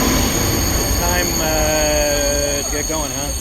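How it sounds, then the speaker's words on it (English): A train pulls away with a loud, steady rumble and rising, whining tones as it gathers speed, close by. "There's the train going."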